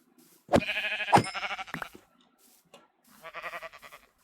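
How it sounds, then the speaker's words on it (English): Sheep in the Minecraft video game bleat close by, two or three loud wavering baas in quick succession, then a pause and another softer bleat. "There's some more sheep."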